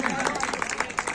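An audience at a Ramlila closing and awards event applauds, a dense, steady patter of many hands clapping close by, with a voice audible underneath.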